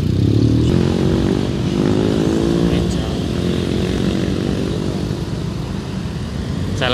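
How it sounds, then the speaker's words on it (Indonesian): A motorcycle engine drones loud and close while overtaking in city traffic, its pitch rising steadily and holding, with a broad rumble of road noise throughout. "motornya nyalip"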